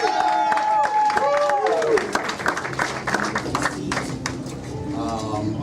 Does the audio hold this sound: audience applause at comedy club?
yes